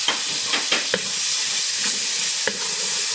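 Tomato stirred while sautéing in a pan for a Filipino dish with string beans and chayote shoots: steady loud sizzling hiss with a few scraping stirs of the utensil, no talking.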